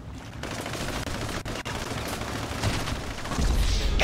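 Gunfire in GTA Online erupts in rapid, dense bursts close by, a continuous rattle of shots with brief pauses and growing intensity toward the end.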